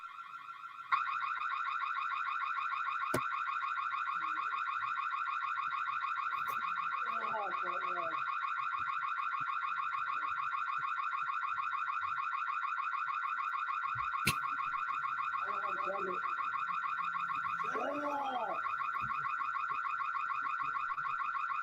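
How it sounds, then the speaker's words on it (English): A car alarm blares continuously at steady loudness for over twenty seconds, a pulsing electronic siren with a few faint sharp clicks and brief distant warbling sounds beneath it. "And listen to this alarm"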